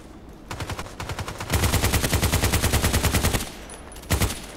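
An RPK-74 light machine gun in the shooter game Contract Wars fires rapid bursts, a short burst then a long sustained string of loud, evenly spaced shots, ending with a couple of single rounds.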